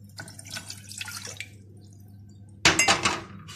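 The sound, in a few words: water being poured into a pot for zalabia syrup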